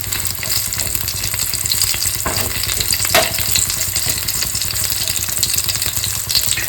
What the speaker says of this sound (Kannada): ಬೆಳ್ಳುಳ್ಳಿ ಹಾಕ್ಬಿಟ್ಟು ನೀಟಾಗಿ ಫ್ರೈ ಮಾಡ್ಕೋಬೇಕು